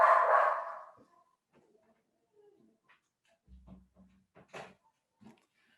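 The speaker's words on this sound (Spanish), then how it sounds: "Aquí la perrita de la casa no deja de ladrar" A small female house dog barks and whimpers indoors, one loud bark at the start followed by scattered quieter yips, snuffles and movement sounds in a mostly quiet room.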